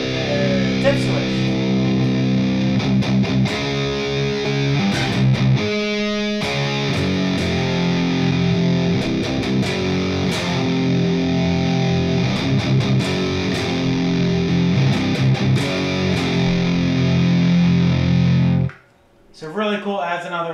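Electric guitar played through a Diesel amp, dialed in with the dip switch, giving a dense, distorted tone with sustained chords and short picked runs, loud and steady before stopping abruptly near the end.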